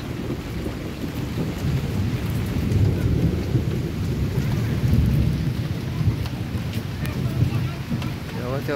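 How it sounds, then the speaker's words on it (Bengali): Heavy rain from Cyclone Remal pours steadily, with low rumbling thunder rolling underneath throughout, loud and continuous, with no clear talk. "বৃষ্টি হচ্ছে, কি হবে?"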